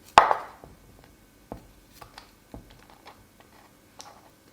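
A knife cuts the greens and small root off beets on a board with sharp, close chops. One loud first cut is followed by lighter, irregular taps and clicks.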